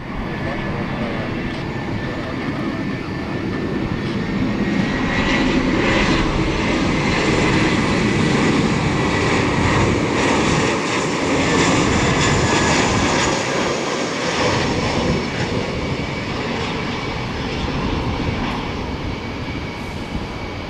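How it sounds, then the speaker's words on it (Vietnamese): An AirAsia Airbus A320 airliner comes in to land at Tan Son Nhat airport, its jet engines making a loud, sustained roar that swells and rumbles steadily throughout, with no audible talk. "Bây giờ thì chiếc Airbus A320 của Air Asia đã bước vào hạ cánh rồi đây"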